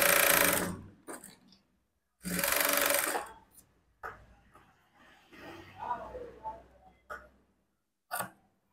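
A sewing machine stitches a folded half-inch hem on blouse cloth in two loud, dense bursts of running stitches, separated by quieter handling sounds and a voice speaking between them.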